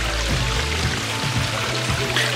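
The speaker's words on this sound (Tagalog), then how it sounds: "dito yung agos ng tubig." A water feature beside a Buddha statue at Crystal Castle in the mountains of Australia sends out a steady, close rush of flowing, splashing water with a gentle repeating pulse and no voices.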